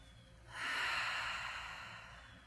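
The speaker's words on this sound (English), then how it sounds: "An inhale for this community. And an inhale for the entire world." A deep inhale during a yoga breathing practice for low back pain, a single long airy breath swelling in and then slowly tapering over about two seconds, close and fairly soft.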